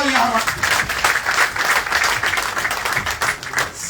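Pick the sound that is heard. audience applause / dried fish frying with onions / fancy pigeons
audience applause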